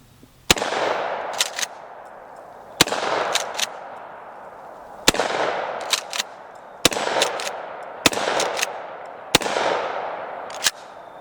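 A Mossberg Cruiser 12 gauge pump shotgun fires five loud, evenly spaced blasts at pumpkins outdoors, each sharp report trailing into a long echo, with the pump action racked between shots.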